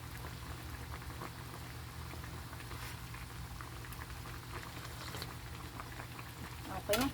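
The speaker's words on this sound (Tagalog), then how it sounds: "Pasensya sa background ng aking kalan." Pot boiling on a home cooking stove, a faint continuous bubbling and low steady hum running throughout, with a brief louder rattle at the very end.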